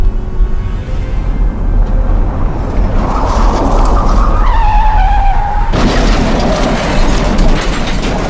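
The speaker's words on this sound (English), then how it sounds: "During a light rain in Palakkad, this bus suddenly slid across the road" A bus skidding across a wet road in light rain in Palakkad, a loud rumbling slide with a rising squeal that ends in an abrupt heavy thud, followed by a rough steady roar.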